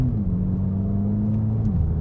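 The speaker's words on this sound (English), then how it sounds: "this 2-litre turbocharged petrol engine" A 2023 Volkswagen Polo GTI's 2-litre turbocharged petrol engine drones steadily from inside the car, a low continuous hum whose pitch holds and then dips slightly near the end.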